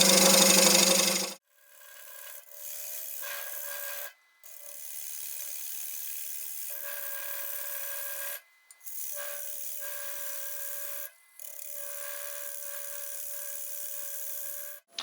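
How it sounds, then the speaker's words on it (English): A roughing gouge plunge-cuts into side grain on a spinning wood lathe, producing a steady scraping, hissing cut that breaks off in several short gaps after an opening burst of louder noise. "So I'm going to go straight in with a rougher. Just take a bit of a plunging cut."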